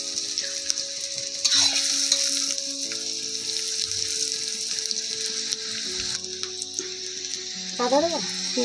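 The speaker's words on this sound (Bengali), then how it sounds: "পেঁয়াজটা লাল লাল করে ভাজা হয়ে গেল" Onions frying in a pan over a clay stove, with a continuous sizzle broken by scraping stirs and a few brief clinks, close and fairly loud.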